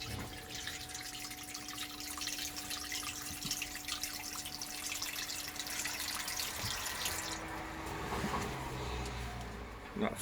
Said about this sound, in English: First test. We have running water.